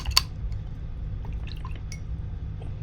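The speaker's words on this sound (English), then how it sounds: "And I'm going to clean my brush." An acrylic paint brush rinsed in water, with a sharp tap against the container at the start followed by faint sloshing drips and small liquid sounds, close and quiet.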